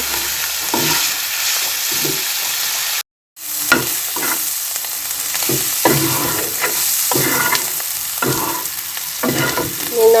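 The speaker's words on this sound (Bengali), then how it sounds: "করলা ভাজি কড়াই দিচ্ছি এখন পেঁয়াজ দিয়ে দিলাম একদম" Bitter gourd frying in a well-worn nonstick wok with onion, stirred in repeated scraping strokes over a steady sizzle, close and loud, with a brief dropout near the start.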